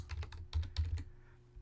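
A computer keyboard is typed on in a quick, uneven cluster of clicks, close and quiet, then trails off into near silence.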